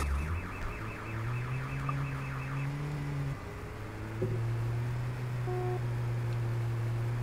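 A car horn sounds in a Turkish GTA-like driving video game, a repeated warbling alarm-like tone at first, then steady held tones over engine drone, with no talk.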